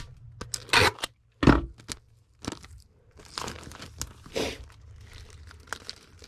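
Plastic wrap and tape are stretched and peeled in short, close crinkling and crackling bursts with quiet gaps between them.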